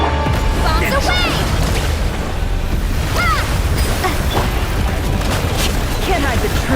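Booming bomb blasts from the video game Genshin Impact, a deep continuous rumble with chirping whistle-like effects layered on top, loud throughout under a voice speaking.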